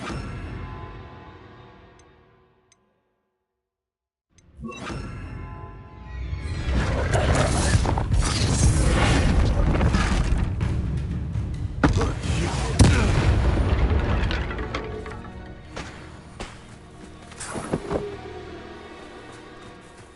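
Spell blasts and explosions from the video game Hogwarts Legacy boom in a dense, loud barrage after a brief silent pause, with rumbling impacts and sharp bursts layered over game music.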